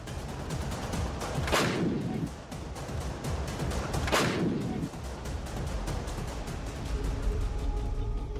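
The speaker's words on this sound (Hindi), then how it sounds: "आरपीजी पर 3 और ग्रेनेड टेप से चिपकाने के बाद वो इसे फायर करता है।" An RPG rocket launcher with three grenades taped onto it fires twice, each launch a sharp, loud blast with a rumbling tail, heard over steady background noise.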